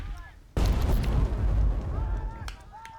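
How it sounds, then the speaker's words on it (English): A mortar shell in Burden of Command slams into a house with a sudden heavy boom, then a long rumbling roar of blast and debris that slowly fades. "Let's grab Lieutenant Murphy and throw a proper mortar shell on this house."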